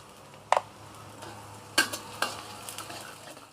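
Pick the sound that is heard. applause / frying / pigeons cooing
frying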